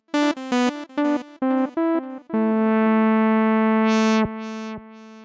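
Baby Audio BA-1 synthesizer playing a quick run of short plucked notes followed by a long held tone, its tempo-synced delay adding rhythmic swells and repeats, clean and close with no talking.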